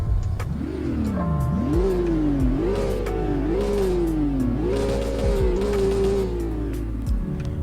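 A base Porsche 911 Carrera is revved repeatedly up close, about six loud throttle blips rising and falling in a steady rhythm, with no talk.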